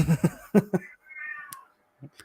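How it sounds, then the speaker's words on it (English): A cat meows in a drawn-out, wavering cry, nearby and fairly loud, surrounded by bursts of people talking before and after. "What's wrong with that cat?"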